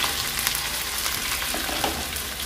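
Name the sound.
stir-frying sliced green beans with spices in a pan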